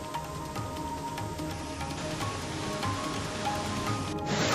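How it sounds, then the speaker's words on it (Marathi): Heavy monsoon rain pouring steadily in Pune, a dense continuous hiss of falling water with no talking. "पुण्यातल्या अनेक भागांमध्ये मुसळधार पाऊस सुरू आहे"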